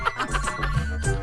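A telephone ringtone plays as a repeated, pulsing electronic tone in a fairly close indoor setting, with several rhythmic bursts and no talking over it.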